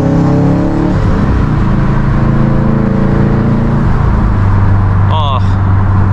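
Turbocharged Subaru STI running E85 with an internal wastegate and a blue turbo, heard from inside the car: loud, steady engine drone with rising harmonic sweeps as it pulls, and a short chirp near the end.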